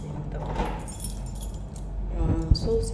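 A set of keys, including an original key, jingles and clinks close by in several metallic bursts, with one sharper clack near the end and faint voices in the background.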